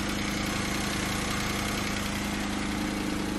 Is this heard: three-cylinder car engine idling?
yes